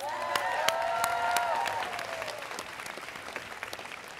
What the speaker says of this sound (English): First and foremost, let's clap it up.